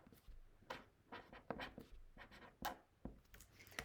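Handwriting with a pen or pencil on paper, a quiet series of short scratchy strokes in an irregular rhythm, close and alone without talk.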